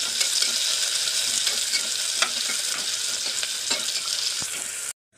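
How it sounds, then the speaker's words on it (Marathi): Sliced onion sautéing in a pan for veg pulao, a bright continuous sizzle with occasional scrapes of a stirring spoon, close up, no voices, cutting off abruptly at the end. "एक कांदा घेतलेला आहे मोठ्याने हा उभा चिरून घ्यायचा आता हा चांगला थोडा लालसर होईपर्यंत परतायचा"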